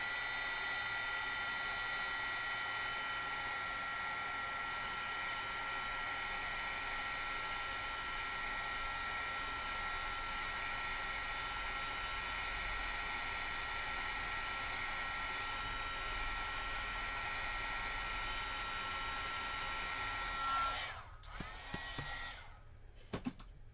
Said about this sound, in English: I'm gonna hit that with the heat gun